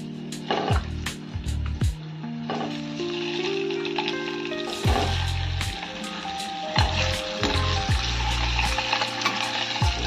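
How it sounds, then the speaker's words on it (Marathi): Boiled eggs fry on low heat in a dhaba-style masala of turmeric, red chili powder and salt, giving a continuous close sizzle. A spoon scrapes and clatters against the pan now and then. "मंद आचेवर हे छान असे फ्राय करून घ्यायचे."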